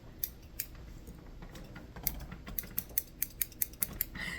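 A pair of new decorative craft scissors handled close by, giving a quick run of sharp snipping clicks that speed up toward the end over a faint room hush, with no talking.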